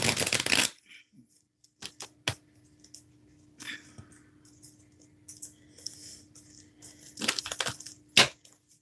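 A deck of tarot cards is shuffled close by in several quick riffling bursts, with softer card taps and rustles and quiet pauses between them.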